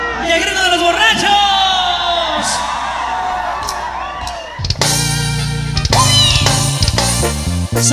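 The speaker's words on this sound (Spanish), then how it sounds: "Y el grito de los borrachos." A loud, rowdy, drunk crowd yelling and whooping at a live show in Plant City, Florida, then loud band music kicks in with the shouting carrying on over it.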